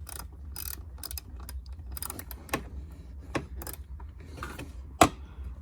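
A ratchet on a wobble socket breaks loose a 12mm bolt on a Subaru Impreza WRX, making sparse, uneven clicks close by with a sharper snap near the end over a low background hum.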